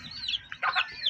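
A Barred Plymouth Rock rooster gives a few short, nasal clucks close by, quiet and brief.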